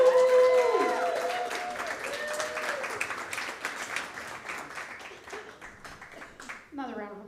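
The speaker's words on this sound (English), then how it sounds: "Another round of applause for Allison there." Comedy club audience applauds and cheers, loud at first and slowly fading over several seconds, with a host's voice talking over it and a brief voice at the end.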